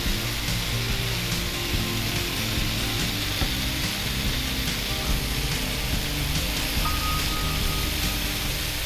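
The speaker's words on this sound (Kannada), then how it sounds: "ಇದು ನೀವು ಐ ಫ್ಲೇಮಲ್ಲೇ ಇಟ್ಟು ಫ್ರೈ ಮಾಡಬೇಕು, ಅಂದರೆ ಇದು ಡೀಪ್ ಫ್ರೈ ಮಾಡೋದಲ್ಲ" Chicken fries in a pan over a high flame with a dense, steady hiss and crackle that sounds like heavy rain. It stays loud and even from start to finish, with no voices.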